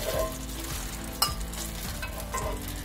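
Garlic frying in olive oil in a pan gives a steady, soft sizzle with faint stirring clinks and one sharp utensil tap, alone and close by.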